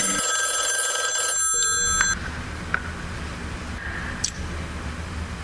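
An old telephone bell rings in a bright, sustained burst that cuts off sharply, leaving a hissy background with a few faint clicks.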